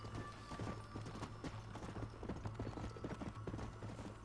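Horse hooves clip-clop in Red Dead Redemption, a steady, fairly quick rhythm of soft thuds over a low constant hum, quiet and with no talking.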